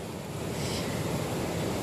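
Rough Black Sea surf breaking on the shore near misty Boztepe, a steady, loud wash of waves with wind noise on the microphone, no voices.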